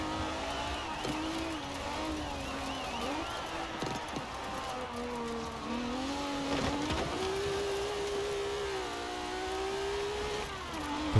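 A rear-wheel-drive drift car in Forza Horizon 4 holds a steady engine drone with rising and falling revs and some tyre squeal, while someone talks over it.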